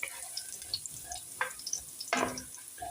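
Garlic fries in a pan as pancit is cooked, a quiet sizzle broken by a few stirring scrapes and one louder splashing hiss near the end. No voices are heard.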